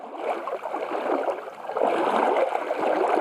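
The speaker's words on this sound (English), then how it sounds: "Give a view of our beautiful creek that we've camped next to." A creek beside a primitive campsite in Ocala National Forest, Florida, flows with steady, close-up gurgling and rushing water that swells slightly louder in the second half, with no talk.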